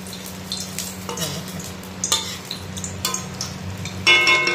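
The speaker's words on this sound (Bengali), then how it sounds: "রান্না করছি লোটে মাছের অনেক জল উঠেছে" Bombay duck (loitta fish) curry simmers and sizzles in a pan with plenty of liquid, giving a steady close bubbling hiss under occasional scrapes and clinks of a spoon against the metal.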